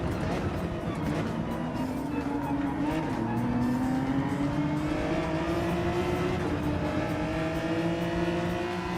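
An old Jaguar-type race car driven in Gran Turismo 7, engine droning steadily and rising in pitch through the gears, with a continuous rumble and faint tire noise, while a person talks over it.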